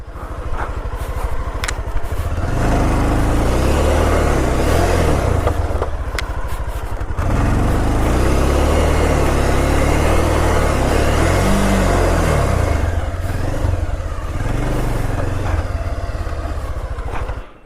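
A Bajaj Pulsar 220 motorcycle revs hard and drifts on loose dirt ground, with a loud, sustained engine roar that surges and dips and gravelly scraping from the rear tyre, close by.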